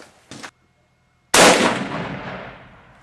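A Mosin Nagant rifle in 7.62x54 fires at a hard body armor plate from 50 yards outdoors: a short, faint click comes first, then a single loud, sharp report whose echo rolls away and fades over a second or so.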